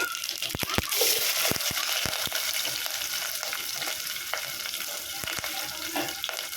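Mustard seeds, onions and green chillies frying in hot oil, a quiet steady sizzle spiked by frequent sharp pops and crackles of spattering seeds, with no voices over it.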